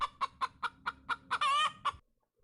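A chicken clucking alarm sound plays from a phone speaker: a run of about eight evenly spaced, loud clucks, one stretched into a drawn-out squawk, then sudden silence.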